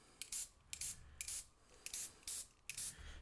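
Short bursts of airbrush spray, a hissing whoosh repeated about six times in an uneven rhythm, each lasting a fraction of a second, close up.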